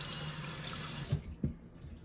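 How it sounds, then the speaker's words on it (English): Water runs from a kitchen tap as hands are washed, a steady splashing stream that cuts off after about a second, followed by two brief knocks and quiet. "wash my hands"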